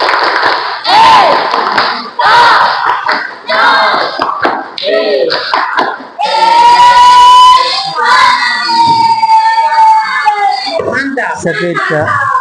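A classroom of students performing the tepuk ekonomi clapping chant, rhythmic group claps and shouted chant words in unison, loud and close, with a sustained cheering vocal stretch midway.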